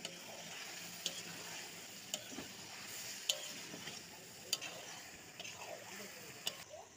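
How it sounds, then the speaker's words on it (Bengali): Meat with turmeric, salt and chili powder being stirred and fried in a pan, a faint steady sizzle broken by sharp clicks of the spoon against the pot. "আমাদের রান্ধুনি হাতের মাংসটা ভালো মতো কষিয়ে চলতেছে"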